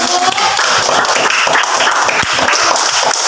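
A classroom of students claps hands together, a loud, busy patter of many hands lasting a few seconds without anyone speaking.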